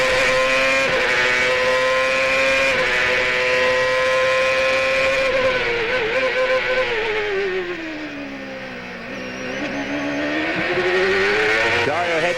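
A CART Champ Car race car at the 2002 Cleveland qualifying session screams through the gears with a loud, high, continuous engine whine that dips and rises with each shift, under a commentator's voice.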